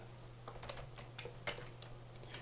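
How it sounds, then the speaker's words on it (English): Quiet, close keystrokes on a computer keyboard tap out a command in an irregular run of light clicks over a low steady hum. "So I'm going to type the delete command."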